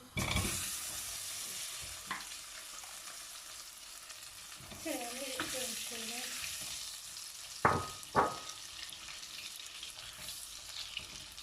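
Butter sizzles softly in a pot at the start of making semolina halva, with a steady crackling hiss, broken by a few sharp clinks of a utensil and brief murmurs.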